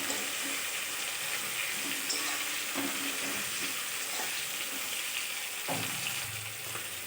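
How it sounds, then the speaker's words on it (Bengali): Chopped onion and green chilli with salt sizzle steadily in hot oil in a pan, with occasional scraping of a spatula as they are stirred, close and continuous throughout. "দিয়ে ভালোভাবে নেড়ে চেড়ে পেঁয়াজটা ভেজে নিচ্ছি।"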